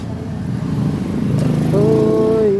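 A small Yamaha Mio Gear motor scooter engine idles nearby, then revs up, its rising whine growing louder toward the end.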